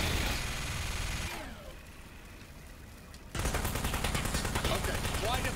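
Rapid automatic gunfire from a weapon in the video game Aperture Desk Job, a loud, dense stream of shots that cuts out briefly, then resumes just as intensely.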